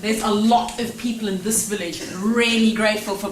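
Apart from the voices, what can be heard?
No distinct noise like a dog, phone or traffic.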